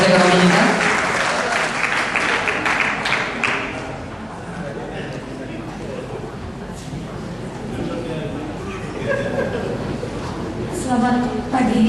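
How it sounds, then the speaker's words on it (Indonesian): Audience at a university economics faculty reunion applauds the faculty dean, sustained clapping across the room that dips slightly midway and swells again, with voices talking over it. "Mungkin boleh tepuk tangannya untuk Ibu Dekan Fakultas Ekonomi kita."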